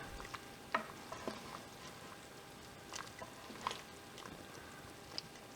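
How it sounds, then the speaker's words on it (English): Faint, steady simmering with soft bubbling pops and occasional light clinks, pork boiling in a pot at a low boil for carnitas, heard quietly and close. "the pork has been boiling at a low boil for about an hour."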